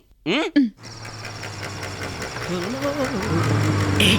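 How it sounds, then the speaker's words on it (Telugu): A vehicle engine idles with a steady low hum after a brief voice at the start, while faint voices rise and fall over the running motor. "ఇంజిన్ ఆఫ్ చేయండి."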